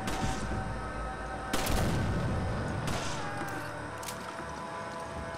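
Gunshots in Resident Evil 5, a few loud booming shots spaced about a second apart over a steady game background.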